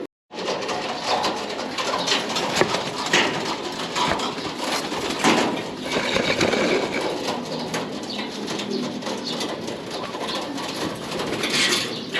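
Racing pigeons cooing steadily at a loft before a summer pigeon race, a dense continuous layer of bird calls with occasional wing flaps, no talking.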